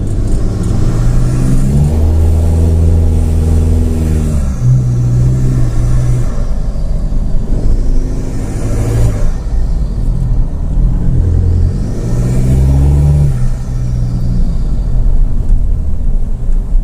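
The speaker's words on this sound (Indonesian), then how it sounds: "wah itu suara turbonya kedengeran banget" A Mitsubishi Pajero Sport diesel SUV with a 4N15 engine, open air filter and full-system exhaust revs up repeatedly, its loud rumble rising in several surges with a turbo whistle sweeping over the top, no voices.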